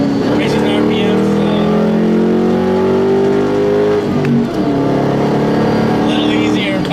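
A 2010 Mustang GT with a 4.6 engine and a lighter flywheel revs hard from inside the cabin, its tone climbing steadily, breaking briefly at a gear change and then rising again, loud and close.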